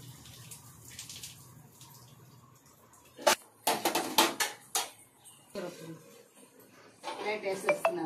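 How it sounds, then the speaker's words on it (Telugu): Hot water poured into a chicken dum biryani pot lands in quick splashing gushes over a quiet kitchen background. Two separate bursts of pouring are set apart by a short pause. "కొంచెం వేడి వాటర్ వేస్తున్నానండి"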